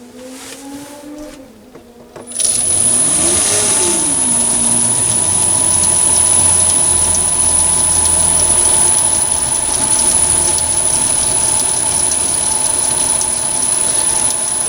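A Chinese mini lathe motor starts after a brief pause and runs steadily at about 180 rpm with a high whine and a constant mechanical hum, close and loud.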